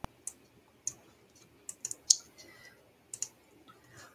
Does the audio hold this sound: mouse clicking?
yes